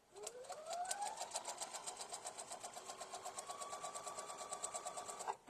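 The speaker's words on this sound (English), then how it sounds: "I'm going to do a locking stitch because that little one is landlocked. And then I'm just going to sew down." A sewing machine stitching quilt fabric, revving up quickly and then running at a steady, rapid rhythmic clatter for several seconds before stopping, close and clear with no talking.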